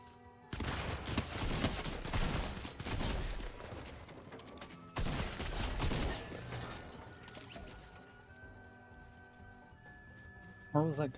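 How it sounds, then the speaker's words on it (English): Gunfire in a battle-royale video game, heard as dense bursts of loud, crackling shots in two long volleys, trailing off into quieter game ambience with a sharp clatter near the end. "Where was that gunshot?"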